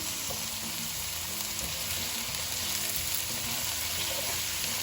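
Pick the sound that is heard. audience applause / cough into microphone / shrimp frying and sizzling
shrimp frying and sizzling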